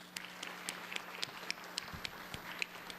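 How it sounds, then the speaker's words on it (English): Light, sparse clapping from people in the House of Representatives chamber in Hawaii welcoming introduced guests, quick uneven claps heard faintly at a distance with a low murmur of the room. "if you can give them a round of applause"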